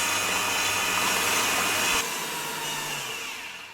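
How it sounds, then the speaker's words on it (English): An electric mixer whisks eggs and yolks for blondie batter, a steady close whirring drone that drops slightly in pitch partway through and then fades down. "allow it to whisk for another 2 to 3 minutes"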